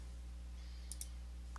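Two sharp mouse clicks land close together on a checkout button in point-of-sale software, with a third faint click after a pause, all over a low steady hum.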